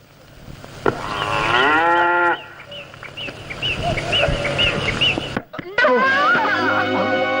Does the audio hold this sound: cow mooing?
yes